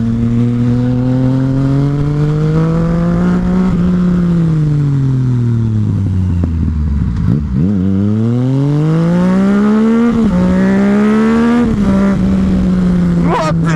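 A loud Yamaha MT-09 motorcycle engine drones steadily, its pitch dipping and climbing again as the throttle is worked, close up and continuous.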